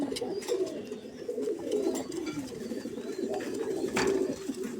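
Ornamental fancy pigeons coo steadily and close by in a loft, a low, continuous layered murmur from several birds with a few brief higher chirps on top, no talking.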